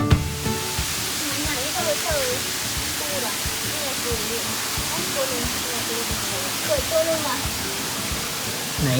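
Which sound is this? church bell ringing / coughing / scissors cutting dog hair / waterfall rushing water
waterfall rushing water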